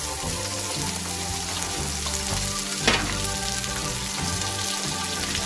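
Steady sizzling of homemade butter melting in a pan over a low flame, a continuous soft crackle with a brief louder pop midway; no voices.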